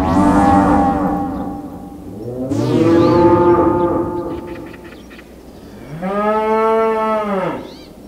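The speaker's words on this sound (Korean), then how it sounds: "다음 날 아침, 관아에서 소 울음소리가 크게 났어요." A cow bellows three long, loud moos one after another, each call rising and then falling, with short pauses between them. The cow is inside a Korean magistrate's government office, and no voices are heard.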